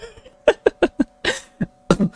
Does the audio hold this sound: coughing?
yes